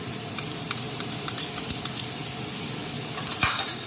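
Chopped green pepper sizzles in hot oil while being stirred, a constant close frying hiss with light scraping clicks of the utensil scattered throughout and a louder stir near the end.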